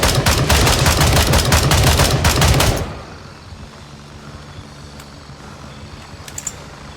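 Rapid automatic gunfire rattles loudly and unbroken in the video game Gray Zone Warfare, then cuts off suddenly after about three seconds, leaving quiet background noise and a couple of faint distant clicks.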